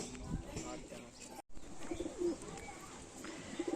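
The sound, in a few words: Kaldom pigeons cooing in a loft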